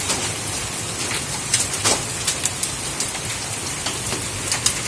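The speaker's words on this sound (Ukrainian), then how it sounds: "По криші стучить." Rain and hailstones beat on a rooftop in summer weather, a steady close patter with sharper louder strikes standing out every second or so.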